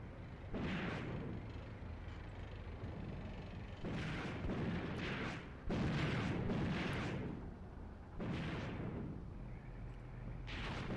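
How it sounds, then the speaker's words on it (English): Repeated heavy booms and rumbling blasts from an Eastern Front tank battle in the video game Graviteam Tactics: Mius Front, coming in bursts every couple of seconds over a constant low roar, loud and distant-sounding. "The Germans, unfazed, return fire from their heavy tanks. Explosions in the distance."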